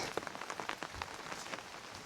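Soft, steady rain patters on a surface nearby in a pineapple garden in Madhupur, Tangail, Bangladesh, with scattered individual drops ticking throughout and no voices.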